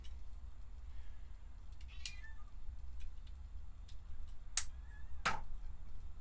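Indoors, a cat meows several times, with short, fairly quiet calls, the clearest near the end, over a low steady room hum.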